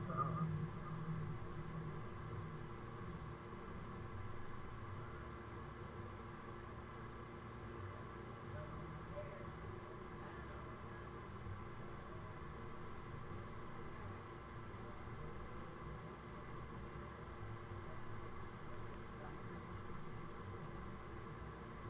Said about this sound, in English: Here comes Amtrak again.